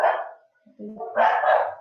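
A pet dog barks close by indoors, a loud bark, a brief pause, then a longer burst of barking, with no talking over it.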